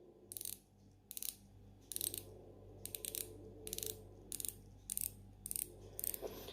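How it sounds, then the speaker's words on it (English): A Spinnaker Hydrofoil chronograph dive watch has its 120-click bezel turned close up, producing about nine crisp bursts of rapid ratcheting clicks separated by short pauses, with no talking. "You've got a 120 click bezel."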